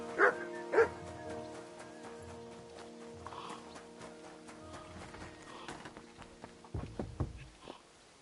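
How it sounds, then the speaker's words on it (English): A dog barks twice in quick succession in the video game Kingdom Come Deliverance 2, fairly faint over steady ambient music and murmuring background noise, with some clattering near the end. "You silly dog."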